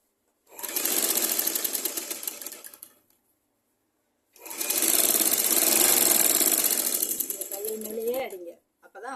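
A sewing machine runs in two steady bursts while stitching gathered pleats on a blouse, its rapid mechanical chatter close and loud, with a brief pause between runs and a voice speaking near the end.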